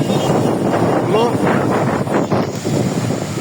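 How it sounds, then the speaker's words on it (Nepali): Strong wind buffets the microphone beside a busy Delhi road near Vijay Chowk and Kartavya Path, a steady rough roar with gusty swells throughout. "हावा अहिले एकदम भयङ्कर लागिरहेछ।"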